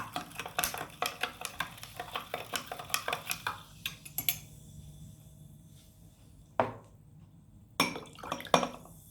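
A dancing beans mixture being stirred in a glass, a steady run of light clinks and taps for several seconds, then a few isolated knocks after a quiet stretch, close by with no talking.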